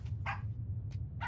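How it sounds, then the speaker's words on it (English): A dog in the horror game Pacify gives a few short, sharp barks, spaced irregularly over a steady low ambient hum, fairly close and moderately loud. "It's barking on you."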